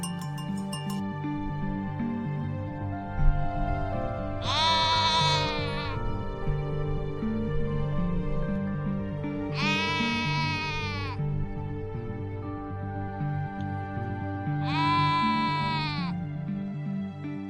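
Sheep grazing on a subalpine mountain meadow on Dahai Cao bleat three times in long wavering calls, spaced roughly five seconds apart, over a steady background hum.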